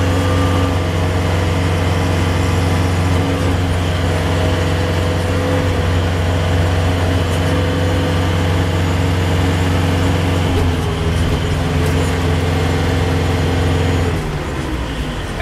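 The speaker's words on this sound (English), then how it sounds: "And if I rev it up all the way" An LS XU5055C tractor engine revs at full throttle, giving a steady, loud, droning roar at close range with strong low harmonics that drops off near the end.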